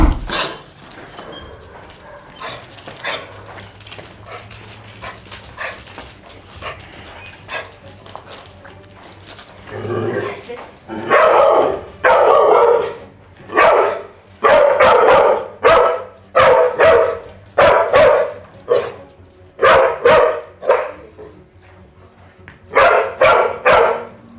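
A dog barks repeatedly and loudly at close range during leash-aggression training, with sharp, evenly spaced barks in the second half following quieter rustling and low sounds.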